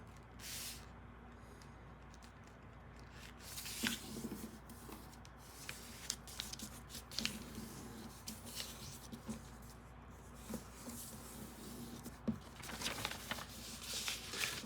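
Paper being creased and folded by hand for an origami F-37 Vigilante jet, with soft rustles and sharp crinkling creases scattered through a quiet room.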